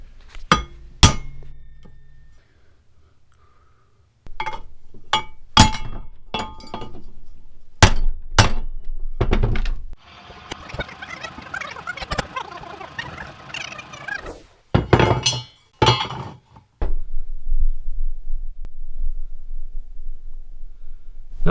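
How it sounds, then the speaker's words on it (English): A hammer strikes a bent rear bumper bracket from a 1984–2001 Jeep Cherokee XJ on a workbench, with sharp metallic clangs in irregular bursts and a scraping, rattling stretch in the middle. "So I'll hammer that out a couple times until I like it"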